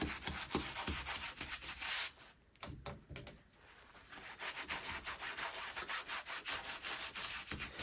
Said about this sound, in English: I rub that Dawn. Same thing in a circular pattern to get that buildup of grease off